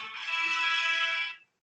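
Mobile phone ringtone plays loud and close indoors, a bright electronic tone held for over a second before cutting off abruptly into silence.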